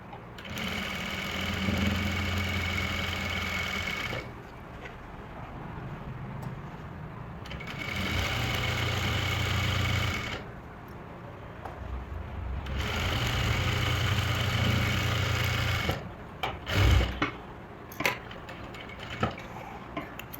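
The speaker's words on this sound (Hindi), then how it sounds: "अब इसके किनारे से सिलाई लगाएंगे एक।" A sewing machine stitches the edge of a salwar mori in three long runs of fast, even mechanical whirring and ticking, separated by short pauses, with a few clicks and knocks of handling near the end.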